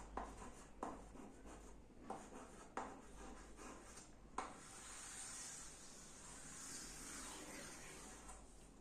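Strokes are written on a board during a Class 10 maths lesson on real numbers, as a series of faint, evenly spaced taps and scrapes. A soft continuous hiss follows in a quiet room.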